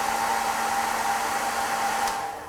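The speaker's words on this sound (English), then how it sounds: "you can also use the fan to wash away the ethanol from the surface, or dry away the ethanol from the surface" A small fan blows to dry ethanol off a sample surface in a sample preparation room, making a steady, close whirring hum with a clear tonal whine that eases off at the end, with no talking.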